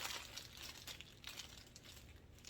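Plastic bag crinkling and rustling as air is pressed out of it while making a barbecue chicken pizza, a soft, continuous crackle close by with no talking.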